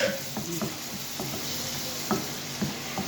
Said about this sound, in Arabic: شوحت التوم مع الفلفل كويس جدا